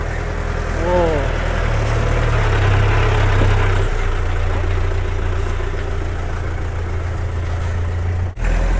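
An Isuzu vehicle engine idles with a low, steady rumble throughout, close and fairly loud, with a brief voice-like sound near the start.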